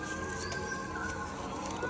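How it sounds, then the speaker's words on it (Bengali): Black Jack pigeons cooing softly and continuously, close by, with low bubbling calls and no talk over them. "কালো জাক কবুতর"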